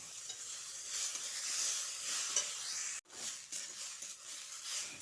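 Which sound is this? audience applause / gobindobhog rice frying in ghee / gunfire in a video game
gobindobhog rice frying in ghee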